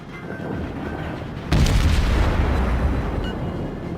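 A Kongō battleship's secondary guns fire on an Isokaze destroyer in World of Warships, producing a sudden loud boom that trails off into a long rumbling roar over steady background noise.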